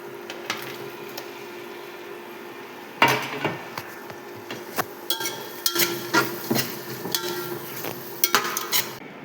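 Boiled soybeans are stirred into gravy in a pan, giving irregular scraping and clinking of a utensil against metal, louder and busier in the second half, close by with a faint background hum.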